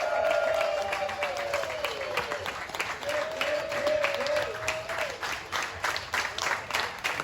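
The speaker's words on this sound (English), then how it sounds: "A big round of applause for Silver Bullet." Crowd applause and cheering at a Ribfest awards ceremony after the Best Sauce award is announced, loud steady clapping lasting several seconds with whoops and a sustained shout rising over it, thinning toward the end.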